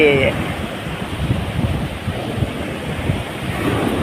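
Strong northeast monsoon wind blows at the seashore, a loud, steady rushing roar with surf-like surges filling the whole stretch.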